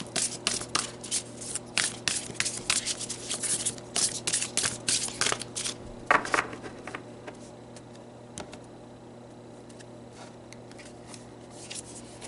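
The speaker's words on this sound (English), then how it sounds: "let's pull some more cards and dig in a bit deeper" A deck of tarot cards is shuffled up close in quick, crisp riffling bursts for about six seconds, followed by quieter handling and faint ticks.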